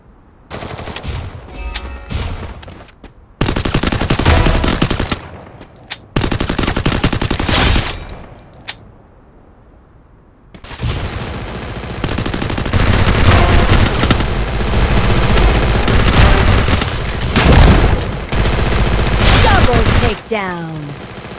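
An MP5 and a SCAR fire in a video game in repeated rapid bursts, loud and close, separated by short pauses and a longer quiet gap, with game voice announcements heard between volleys.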